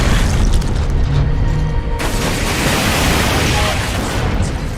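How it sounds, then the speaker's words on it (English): A power core blows up in the video game Space Marine, producing a loud, rumbling blast that cuts off sharply partway through and gives way to continuing heavy noise and action sounds. "Power core explosion."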